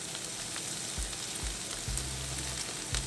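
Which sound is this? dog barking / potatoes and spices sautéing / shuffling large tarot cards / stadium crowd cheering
potatoes and spices sautéing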